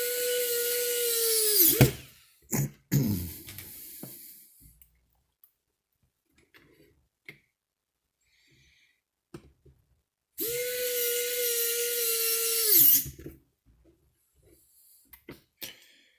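A power screwdriver drives screws to fasten a Nespi soft shutdown V2 board, giving two separate close whirring bursts of about two seconds each, with quiet handling clicks and gaps between them.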